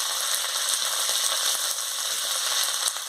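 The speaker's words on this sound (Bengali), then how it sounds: "আমি রসুন বাটা আর আদা বাটা দিয়ে দিচ্ছি। দিয়ে ভালো করে নাড়িয়ে নিচ্ছি।" Garlic and ginger paste frying in hot oil in a kadai, a soft continuous sizzle with faint stirring scrapes, fairly quiet and steady throughout.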